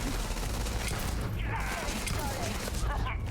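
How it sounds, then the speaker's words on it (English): Gunfire from an unusual weapon in the space game Starfield: a dense, continuous roar of rapid shots with sharper cracks along the way, loud and steady for the whole stretch. "What a strange gun."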